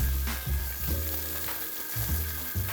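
Steak sears in a hot cast iron pan with a steady, loud sizzle and crackle, punctuated by a few brief scraping, shifting bumps.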